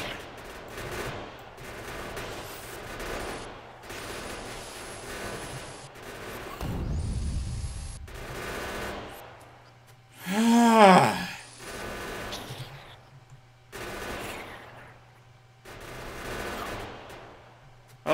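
Automated gun turrets in the factory game Factorio rattle off rapid repeated bursts of fire, with clusters of shots over a low steady hum and brief sweeping tones in between.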